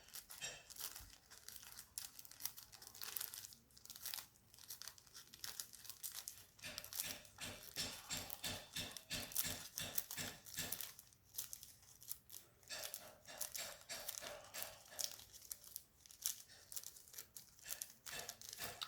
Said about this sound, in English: So you're just cutting into the paper.